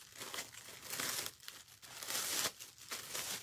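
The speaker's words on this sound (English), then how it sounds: "So I'm just like unwrapping a trash bag." A plastic trash bag being unwrapped and unfolded at a desk, giving close, soft crinkling and rustling in repeated bursts with brief pauses between handfuls.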